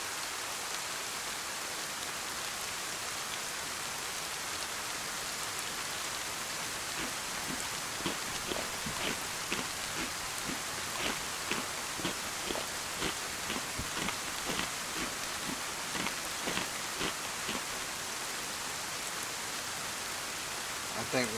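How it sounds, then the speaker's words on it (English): Steady rain falling in the DayZ survival game by daylight, a constant hiss with faint patter and scattered drops tapping on surfaces throughout. "It is daylight, but now it is raining."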